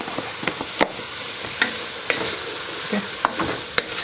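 Bolognese sauce being stirred in a pan: a spoon scrapes and knocks against the pan in irregular strokes over a constant close sizzle, with no voices.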